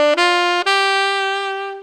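A horn plays a bright, brassy tone that steps through a couple of quick notes from the blues scale, then holds one clear sustained note that fades out, with nothing else around it.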